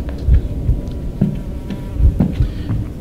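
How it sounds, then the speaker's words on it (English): Loud, close buzzing of flies fills a dark horror video game scene, a continuous droning whine that swells and fades with low thumping beneath, with no voices. "the flies in this game are just so loud"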